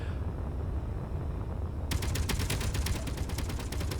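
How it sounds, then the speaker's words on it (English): Guns in the space video game Space Engineers fire in a dense, rapid burst, a steady crackling barrage that starts abruptly partway through and continues over a low background rumble. "the guns are continuing to shoot things"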